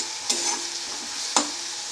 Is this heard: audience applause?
no